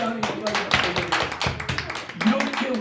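A church congregation at a Sunday worship service claps in praise, a series of sharp, rhythmic claps with voices talking and calling out alongside.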